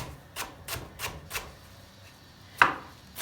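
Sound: chopping onion with a knife

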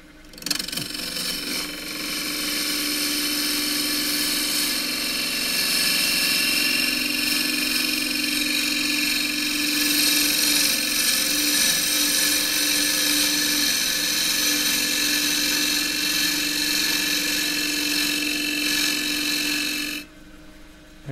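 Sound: wood lathe turning with a quarter inch fluted bowl gouge

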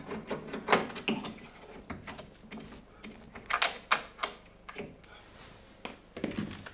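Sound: unscrewing screws by hand on a tumble dryer's back

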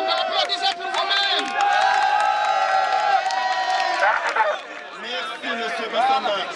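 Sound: protest crowd applauding and cheering

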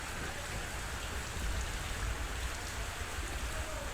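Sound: heavy rain and water flowing on streets

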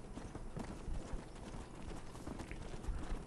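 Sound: stolen horse galloping in Red Dead Redemption video game

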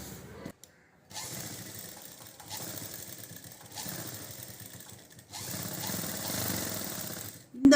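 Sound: sewing machine stitching jacket lining neckline

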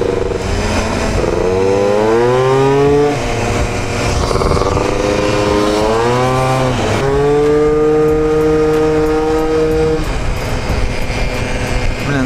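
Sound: moped engine revving

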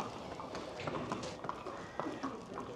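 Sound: horse hooves walking out of stable

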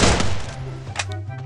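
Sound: gunfire in the video game Garena Free Fire

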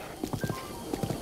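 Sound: horse hooves while riding in Breath of the Wild video game

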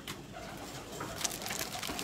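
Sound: pigeons cooing in a cage

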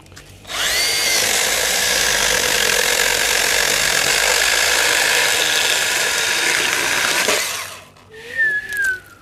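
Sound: Milwaukee M12 cordless pruning saw cutting thick fig wood

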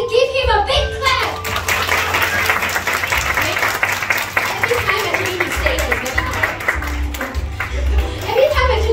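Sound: audience clapping for young performer

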